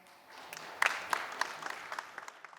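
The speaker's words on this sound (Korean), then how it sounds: "박수 보내주십시오" Scattered audience clapping at a regional airport policy forum in Daegu greets a speaker coming to the stage, a thin patter with a few louder individual claps, fairly faint and distant.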